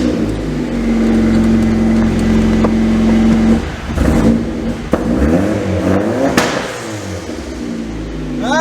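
A boosted Honda engine revs up and bounces against a limp-mode rev limiter, holding a steady drone before rising and stuttering in choppy, sputtering bursts, loud and close.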